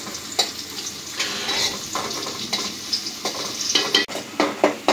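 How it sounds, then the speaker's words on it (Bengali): Garlic and onion fry in a pan for a village fish curry, with a steady sizzle and repeated scraping and stirring of a utensil against the pan, close and clear with no talk. "এখন রসুন পেঁয়াজ ব্রাউন কালার করে ভেজে নিব।"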